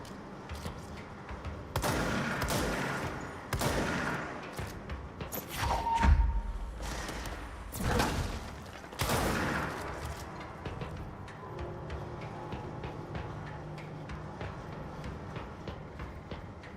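Enemy gunfire in the video game Control: repeated loud bursts of shots and booming impacts over about seventeen seconds, with rumbling game sound and noise between bursts and no talk.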